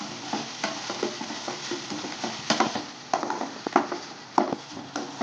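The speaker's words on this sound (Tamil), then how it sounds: "அது நல்லா வதங்கட்டும் ரொம்ப வதக்கிடாதீங்க டிரான்ஸ்பரண்டாக வதக்கும்" Onions being sautéed in hot oil in a pan until translucent, a continuous sizzle broken by frequent spatula scrapes and stirring strokes, close and fairly loud.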